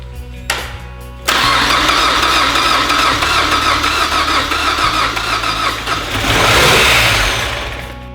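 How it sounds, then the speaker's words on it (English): A Mazda Miata's 2.5 engine with an open header cranks briefly, catches and roars to life, running loud and raw with a rising rev near the end. "Cranking it up with open header?"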